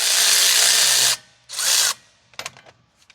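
Power tool whirring as it drives the four 18mm bolts into a new wheel hub and bearing assembly on a Dodge Ram 2500/3500, a loud steady burst, a short pause, a second shorter burst, then clicking ratchet sounds.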